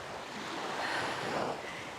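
Steady broadband wash of sea waves on a beach, continuous surf with wind noise across the microphone, no talking.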